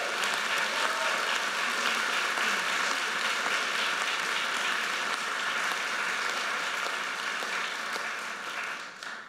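A crowd applauds at a university business school awards ceremony. The clapping is dense and sustained, fills the whole stretch and eases off slightly at the end.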